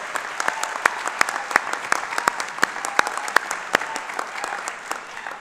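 An audience claps at a winter master's commencement ceremony: dense, sustained applause with sharp individual claps standing out nearby, continuing without a break.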